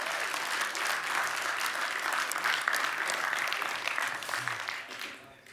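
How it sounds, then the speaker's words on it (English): Sustained audience applause fills a hall at a Mi 8 Pro smartphone launch event in London, steady dense clapping for several seconds before tapering off at the end. "let's give it a round of applause"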